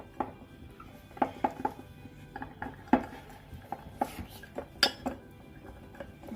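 A spoon mixes honey with a pinch of black pepper powder in a small bowl, making irregular light clinks and taps against the dish, with soft rubbing in between, close and fairly quiet.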